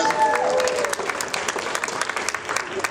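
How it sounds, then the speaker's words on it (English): A conference audience at a convention center applauds, a lively, fairly close burst of clapping with distinct individual hand claps and a brief vocal tone at the start. "Give ourselves a round of applause, you guys."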